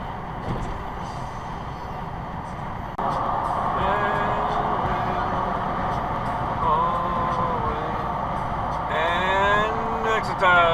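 A dump truck rolls past in traffic, its engine rumble swelling over steady road noise as other cars move around it, with a brief tonal whine and squeal rising near the end.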